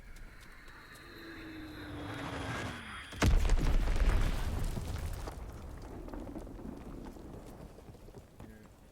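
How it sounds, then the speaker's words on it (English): A sudden loud explosion from an enemy bomb in Call of Duty WWII multiplayer erupts midway, a heavy boom followed by a rumbling decay over ongoing game noise. "Enemy bomb incoming."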